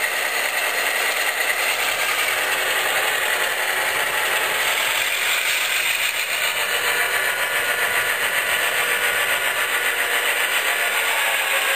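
An Athearn Genesis HO scale FP7 A/B model locomotive set backs up in reverse across track, giving a steady, close mechanical whir and hum that holds level throughout, with no talking.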